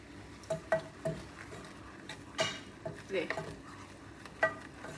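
Fries being tossed with salt and chilli powder in a pan: soft clinks and taps of a utensil against metal over a faint sizzle, close and quiet, in irregular bursts.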